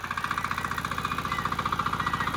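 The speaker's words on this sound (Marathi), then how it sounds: "मामीने घेतलाय आता ट्रॅक्टर." A loud diesel engine idles steadily nearby, chugging in a fast, even rhythm of regular pulses with no voices.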